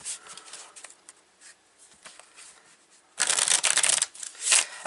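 Tarot cards are shuffled by hand, first in soft, sporadic riffles and then in a louder, dense flurry of slapping and shuffling near the end. No talking is heard.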